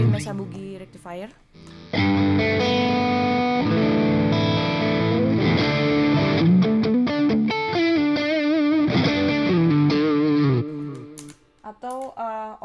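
Distorted electric guitar played through a Mesa Boogie Rectifier amplifier, loud and sustained with thick chords and riffs for about nine seconds, framed by brief lighter picking at the start and end.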